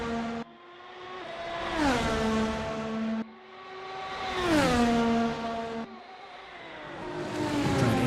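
A Porsche Penske race car on a build-up lap at Interlagos, engine revving through rising gear pulls in three loud surges, each dropping sharply at the shift before climbing again.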